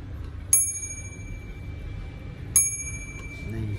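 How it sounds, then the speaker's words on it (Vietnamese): The hammer of a vintage ODO wall clock strikes its brass gong twice, about two seconds apart, each a bright metallic ring that decays slowly over a quiet ticking background. "Khi mà chiếc búa gõ vào chuông sẽ kêu một cái beng."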